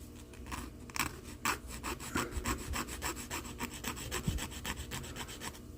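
A file rasps rhythmically across a plastic model car part for a 1969 Torino, beveling the edge in a quick series of even back-and-forth scraping strokes, close and alone.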